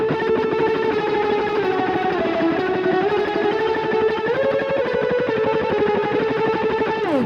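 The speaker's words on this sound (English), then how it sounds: "It sounds cool with distortion as well." Electric guitar tremolo picking through distortion and reverb effects, a continuous rapid buzzing drone with shifting sustained pitches, loud and steady with no talking.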